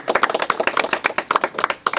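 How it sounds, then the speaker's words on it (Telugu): Audience applause at a government school development-works opening in Ramannagudem village, a brisk crowd of hands clapping steadily for about two seconds, close and fairly loud with no talk over it. "క్లాప్స్"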